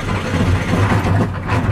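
A 1980 Freightliner dump truck with a Cummins 855 diesel runs at half throttle, a loud, steady, low rumbling drone that holds evenly throughout.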